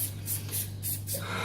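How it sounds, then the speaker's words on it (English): Cooking spray hits paper patty-pan liners in a muffin tray in several quick, close, sharp hissing bursts with short gaps between them. "Just a little spray."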